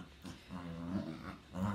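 Dog growls low and close in short rumbling bursts, with quiet gaps between them, faint and indoors.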